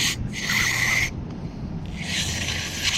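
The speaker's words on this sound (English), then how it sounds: "And then the carburetor cleaner goes right in my face." Carburetor cleaner sprays from an aerosol can onto the carburetor of a Viper 99cc tiller, in two loud hissing bursts with a short pause between them, close and without talk.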